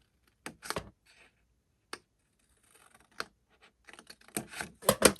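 Paper being cut by hand along score lines for a Cowboys scrapbook page album, heard as a few scattered crisp snips and clicks separated by quiet gaps, with a denser burst of cuts near the end.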